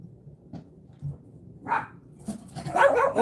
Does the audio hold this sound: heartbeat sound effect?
no